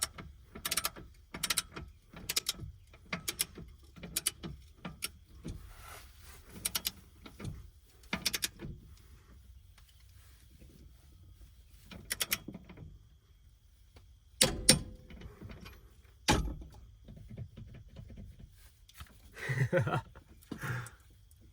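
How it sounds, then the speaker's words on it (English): A torque wrench tightening bolts to 90 foot-pounds on a Grand Design Solitude 2930RL travel trailer, a series of sharp, separate clicks and pops spaced a second or two apart, with quiet gaps and faint movement between them. "So you hear that pop, that's how you know you're at 90 foot-pounds."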